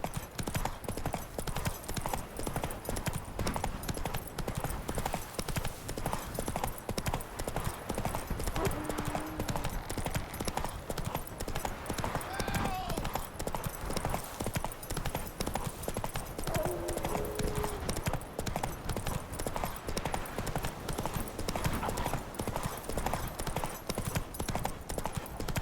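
Roach, the horse from the video game The Witcher, galloping with a fast, steady rhythm of hoofbeats that runs unbroken and close throughout, with a faint snort or whinny partway through.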